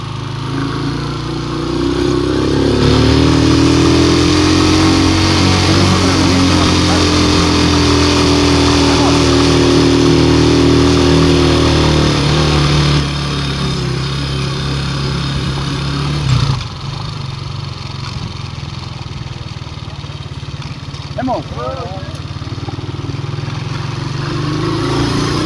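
Motorcycle engine running steadily while riding along a mostly concrete road from canton El Tineral toward the highway, a loud continuous drone with shifting pitch and a brief dip partway through, with someone talking over it.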